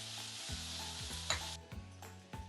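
A small chopped tomato and salted vegetables sauté briefly in a pan for puli pongal, a soft sizzle with a few stirring scrapes over a low humming tone.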